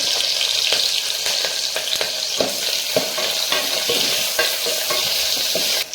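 Green chillies and onion fry in a pan, a steady crackling sizzle with soft scrapes of stirring through it, close and continuous with no voices.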